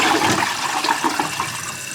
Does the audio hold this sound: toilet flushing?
yes